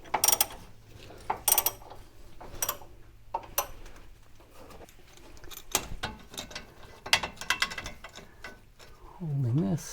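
A wrench clicks in quick, uneven ratcheting bursts while a Corvette front suspension bolt is tightened to 70 foot-pounds, close and crisp with short pauses between strokes.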